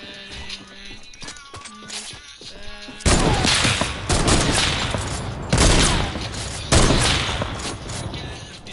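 Gunfire from a shooting video game erupts after a quieter stretch, with several loud bursts of rapid shots in clusters, each trailing off into reverberant noise.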